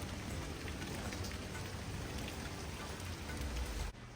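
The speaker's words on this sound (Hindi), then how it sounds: "ये बारिश की आवाज भी बहुत अच्छी लगती है, जब बादल गरजते हैं ना तब भी बहुत अच्छा लगता है।" Steady, dense rain drums on a surface close by during a storm in Canada, a continuous hiss that stops abruptly near the end; no distinct thunder rumble stands out.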